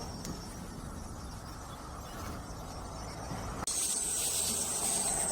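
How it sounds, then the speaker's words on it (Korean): A continuous cicada drone buzzes faintly in the background in late summer, then abruptly switches to a brighter, higher-pitched steady whine partway through. "여름 동안 정겨웠던 매미 소리도 이제 곧 끝나겠죠?"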